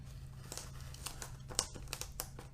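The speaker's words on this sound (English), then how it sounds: "you're going to put that over the Scotch tape" Scotch tape pressed over paper on a model railway layout gives a faint, close run of crinkling and small rustling pops, quiet and irregular, with no voices.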